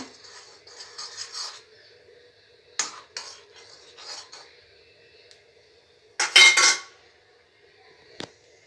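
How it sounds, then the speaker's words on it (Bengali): A metal spoon clinks against a pot while stirring food colouring into boiling milk, with scattered light taps and scrapes and one louder burst of clattering near the end, close and alone. "কালারটা কিন্তু আমি এই ফুটন্ত দুধটার মধ্যে মিশিয়ে দেব"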